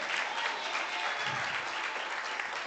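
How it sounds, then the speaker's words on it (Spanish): A church congregation applauds during a sermon, a dense, steady burst of clapping that fills the whole short stretch with no break. "Aplauda a Cristo"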